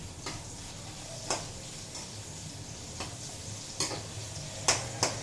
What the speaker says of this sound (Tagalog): Pa-brown natin yung ating sibuyas, bawang.